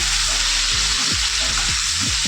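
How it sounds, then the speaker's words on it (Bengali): Potatoes frying with salt and turmeric give a loud, steady sizzle with bursts of stirring, close by and without talk. "লবণ আর হলুদের গুঁড়ো দিয়ে একটু আলুগুলোকে আমি এবার লাল লাল করে ভেজে নেব"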